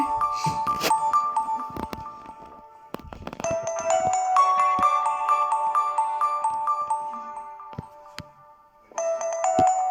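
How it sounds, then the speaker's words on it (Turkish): A smartwatch alarm rings at 21:40 with a bright, repeating electronic chime melody. Looping tinkling tones come close to the microphone, with a short break before the melody starts again. "Alarm çalıyor."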